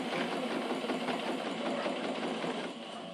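A sewing machine hums and chatters continuously at a moderate pace while stitching fabric for a small zip pouch that turns into a basket, close and steady with no voices.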